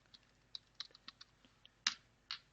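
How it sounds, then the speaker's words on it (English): Password typed on a computer keyboard while resetting the root password in Kali Linux: a quiet run of separate key clicks at an uneven pace, ending in two heavier strokes, close by with no talk. "I'm typing."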